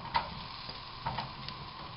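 Thick-sliced mushrooms frying with onion in a pan, a faint soft sizzle with a few light ticks and stirring taps, quiet and close.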